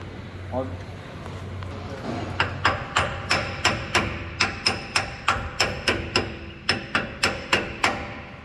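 A hammer taps a new pinion nut onto the axle of a 2019 Ford F350 with a 10.5 Sterling rear end, delivering about twenty sharp metallic strikes in a quick, steady rhythm, close up, after a brief moment of low background sound.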